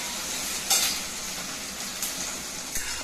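Onions frying in a pan, a dense close sizzle throughout with a few sharper crackles and stirring scrapes, no talking.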